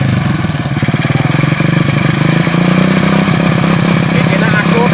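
A motorcycle engine runs loud and close with a rapid, pulsing idle that roughens and rises slightly as it is revved, steady for the whole stretch, while people talk over it.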